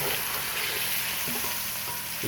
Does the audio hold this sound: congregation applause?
no